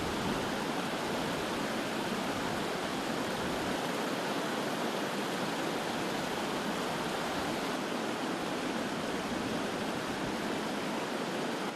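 Floodwater of Left-Hand Creek in Colorado rushes past during heavy rain, a loud, dense, steady roar that fills the whole stretch without pause and with no voices over it.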